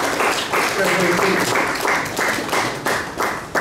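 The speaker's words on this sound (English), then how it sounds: "let's give yourself a round of applause" An audience at a repatriation and investment conference in Ghana applauds loudly and continuously, with cheering voices mixed into the dense clapping.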